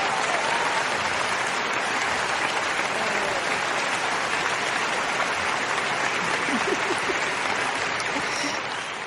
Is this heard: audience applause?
yes